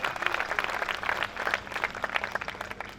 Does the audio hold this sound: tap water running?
no